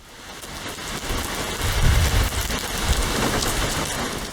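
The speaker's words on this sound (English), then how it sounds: "Outside, rain had started to fall, the drops slashing against the tall windows in steady bursts." Heavy rain lashes against tall windows in steady, swelling bursts, a dense continuous wash that grows louder partway through, with a faint low rumble beneath.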